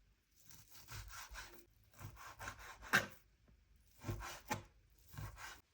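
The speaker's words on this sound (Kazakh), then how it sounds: "Ең алдымен етті майдалап 4 бұрышты етіп турап шығамыз." A knife cuts meat into small cubes on a board, making quiet bursts of rapid rhythmic strokes separated by short pauses, with one sharper knock.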